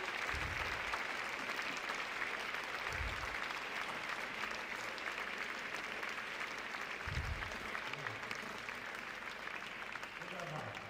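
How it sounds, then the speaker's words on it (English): Audience applause at the Circular Valley Demo Day, given for the startup program's supporters: dense, steady clapping from a crowd that holds evenly for the whole stretch, with a few low thumps underneath and no clear voices on top. "And this is applause for you, for the supporters of the Circular Valley."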